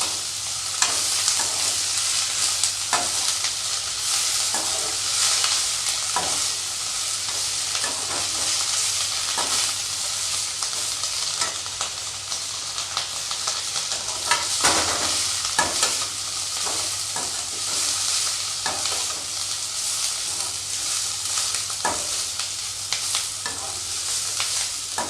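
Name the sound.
ridge gourd peel being stir-fried in a pan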